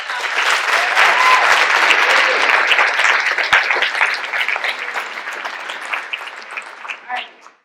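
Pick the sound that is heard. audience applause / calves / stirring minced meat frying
audience applause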